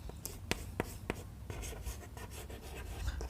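A definition is written out by hand during a class 9 lesson on polynomials, with a series of quick, close scratchy strokes and taps in an irregular rhythm, and no voice.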